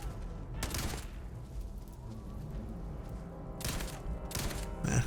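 Starfield video game gunfire comes in a few sharp broadband bursts, one early and more near the end, over a steady low background hum of game ambience.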